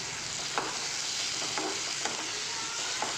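Chopped tomato fries with spices and slit green chillies in a pan for gota masala chicken, a steady close sizzle broken by about five sharp scrapes of stirring spaced through the clip.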